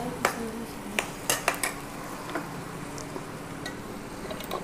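A spoon clanks and scrapes in a pot as a masala mixture with tomatoes is stirred, giving a few distinct metallic knocks early and then quieter scraping under a low background hum.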